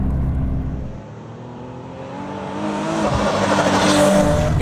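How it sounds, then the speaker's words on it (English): A supercharged Nissan 370Z accelerating hard on a race track, engine note dipping then climbing loudly in pitch as it pulls through the gear, with a rising supercharger whine near the end. "Let's find out what the supercharger feels like"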